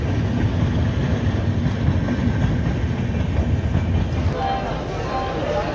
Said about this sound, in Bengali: সো বন্ধুরা ফাইনালি ট্রেন থেকে নেমে পড়েছি, দেখতে পাচ্ছ পিছনে ট্রেন রয়েছে